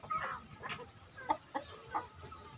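Chickens cluck in a short series of close, sharp calls at a farm pen where brown Bangkok hens and a Black Bull rooster are kept for crossbreeding, with light background noise and no talking.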